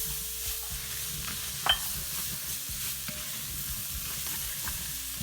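Minced garlic and a large finely chopped onion frying in a pan, a soft steady sizzle with occasional stirring scrapes and one small clink, no talk.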